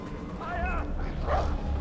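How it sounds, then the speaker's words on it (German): A dog in Far Cry 4 lets out a few yipping barks and whimpers, fairly close and loud over a busy game background. "Da ist wieder ein Hund."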